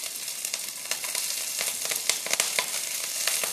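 Green chilies hit hot oil in a wok after a black cumin tempering and give off a quiet, crackling sizzle with dense little pops and spits, steady for a few seconds.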